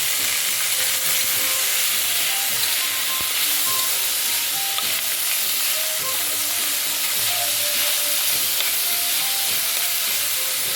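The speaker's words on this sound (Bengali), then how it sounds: "আমি একটু সাদা তেল দিলাম, তার মধ্যে সমস্ত ভেজিটেবলগুলো দিয়ে দিয়েছি, দিয়ে একটু নুন দিয়েছি।" Mixed vegetables frying in white oil with salt, a dense continuous sizzle and hiss with small crackles throughout, close and steady.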